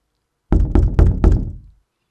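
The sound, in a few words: knocking on a door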